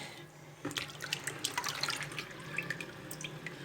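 Water runs steadily from a tap as tomatoes and peppers are rinsed in a sink, with splashing and dripping throughout and no talking.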